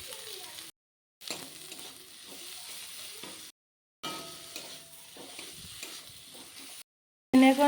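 Chopped tomato crackles softly in a pan, a low sizzle with light stirring scrapes, interrupted by several short stretches of silence.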